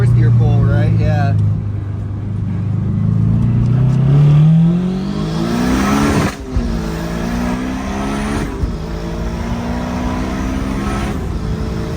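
A Honda S2000 accelerates hard through a first gear pull, its engine note climbing steadily to a high rev and then shifting up. People talk over the loud, close engine sound.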